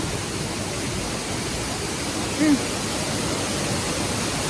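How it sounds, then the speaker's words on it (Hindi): Loud, steady roar of a waterfall at a café in Chiang Rai, Thailand, a dense broadband rush filling the whole clip with no pauses. "यहाँ पे इतना हल्ला आ रहा है ना ये वाटरफॉल से"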